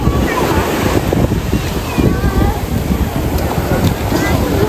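Steady roar of ocean surf at crowded Alappuzha Beach, with heavy wind buffeting the microphone, continuous and loud, with faint distant voices mixed in.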